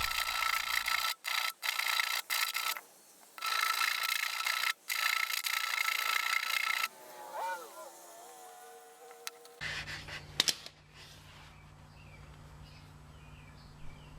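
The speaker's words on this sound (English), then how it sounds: "I also try to round the tops while I'm filing" Ignition points of a Wheel Horse 401 tractor being filed, with rough rasping strokes in quick bursts, then quieter handling and light metallic clicks; no talk.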